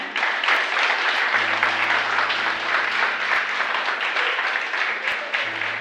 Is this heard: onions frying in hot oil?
no